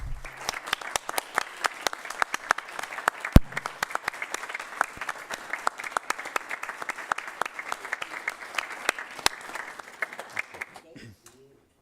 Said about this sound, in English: we should actually offer another great thank you and a round of applause. And I think this deserves a standing ovation from all of us.